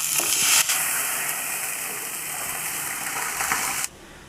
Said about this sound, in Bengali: এবার দুধটা আমি দিয়ে দিলাম।